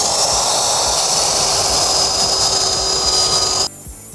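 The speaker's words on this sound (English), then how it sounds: "I'm gonna go ahead and sand this from there." Power sanding the end grain of a deck board folded into fascia, a loud steady whine and hiss running continuously for several seconds before cutting off abruptly near the end.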